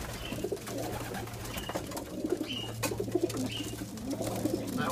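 Pigeons in a racing pigeon loft coo in repeated soft, low bursts, several birds overlapping close by over a steady low hum.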